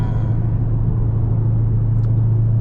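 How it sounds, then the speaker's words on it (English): A stock Dodge Demon 170 with a loud supercharger rumbles in a heavy, steady low drone, close and loud throughout, with no voices. "The sounds in the Demon 170 are pretty crazy for it being a stock vehicle. The supercharger is so loud."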